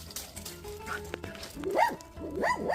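A stray village dog yips and whimpers in short, rising whines and a couple of sharp barks, fairly close, with quiet voices in the background.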